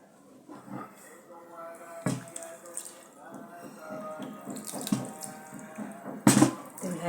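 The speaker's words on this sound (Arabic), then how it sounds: "ديروا لها الماء مزيان وما تخافوش منها" Tap water runs into couscous in a home kitchen, a steady splashing stream with a few louder gushes, while someone talks over it.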